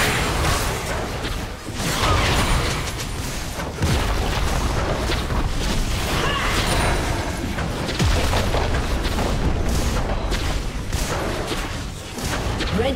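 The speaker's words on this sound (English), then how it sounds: "Red team's turret has been destroyed." An explosion as a turret is destroyed in League of Legends, amid busy game-fight audio with repeated deep booms, pops and whooshing effects.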